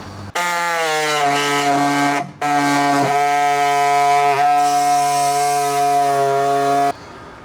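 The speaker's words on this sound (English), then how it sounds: "To do these cuts, I like to use my snap-on air saw." A Snap-on air saw cuts into a boat panel for an audio install, a loud, buzzing reciprocating whine running in two long bursts with a brief stop between them, close up and without speech.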